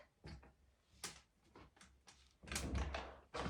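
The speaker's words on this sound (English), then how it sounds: "I'm kind of worried about closing the door and getting it stuck" A bathroom door in a DIY home build swings shut with a latch, giving a series of wooden knocks and clicks followed by a heavier thud and rattle, fairly close by.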